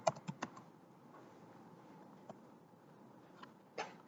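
Typing on a computer keyboard while entering a weekly schedule in an Excel spreadsheet, a few scattered quiet key clicks in short clusters with pauses between, close and faint.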